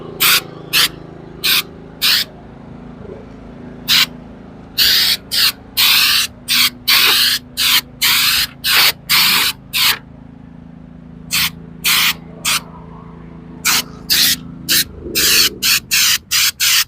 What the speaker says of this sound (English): this sprays on pretty easy